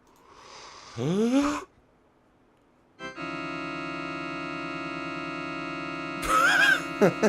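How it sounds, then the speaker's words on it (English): Synthetic breathing from the video game Quest for Glory 4, with a rising pitch, a pause, then a steady electronic buzzing drone, followed by another breathy swell and short chirps. "That's what breathing sounds like."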